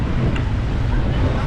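Steady loud rumbling wind buffeting the microphone on a street in Hurghada, Egypt, a dense low roar throughout with faint background sounds.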